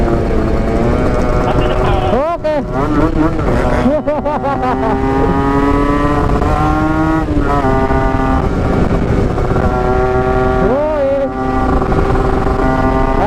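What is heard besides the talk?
motorcycle revving and accelerating on a road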